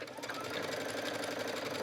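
A sewing machine stitches a skirt waistband in a quick, close, continuous run of rapid needle chatter from start to finish.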